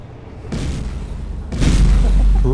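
In the Space Engineers video game, main cannons fire a volley as two heavy booming bursts, the second louder and sustained, with dense low rumble and no speech.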